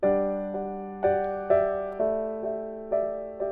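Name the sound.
chord with added fifth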